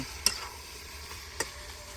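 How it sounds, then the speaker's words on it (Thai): Holy basil and pork being stir-fried in a pan with dark soy sauce, giving a soft sizzle with a few sharp clinks of the spatula against the pan, fairly quiet and with no voices. "กระเพราเนี่ยใส่ไปแล้วก็ต้อง ต้องผัดให้เขาสุกนะครับ"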